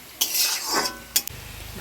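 Grated coconut stirred in a pan while making fried rice: a scraping spatula stroke rises and fades, then a sharp clatter of utensil on metal, followed by a low steady hum, with no voices.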